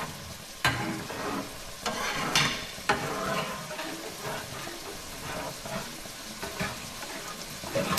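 Shrimp being stirred through a Cajun pink sauce in a pan, with a soft continuous sizzle and scattered scraping clicks of a utensil against the pan, close and fairly quiet, no talking.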